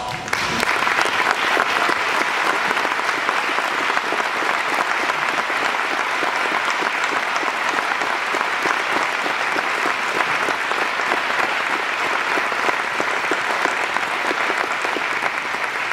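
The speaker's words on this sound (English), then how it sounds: "I ask them to please rise as we give all of them a round of applause" At a high school graduation ceremony, the audience gives the teachers and administrators a sustained round of applause, a thick, even roar of many hands clapping that holds for about sixteen seconds.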